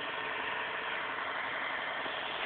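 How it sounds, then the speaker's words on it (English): A 1996 Nissan Altima engine idles after a cold start with its grille buried in snow, a steady muffled rumble that runs evenly and close by with no talking. "the engine's going to really have trouble breathing now"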